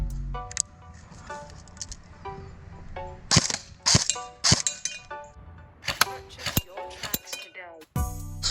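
MP5 airsoft submachine gun fired at a target 25 feet away, giving a handful of sharp, separate cracks and snaps over a murmur of background talk and faint tonal noise.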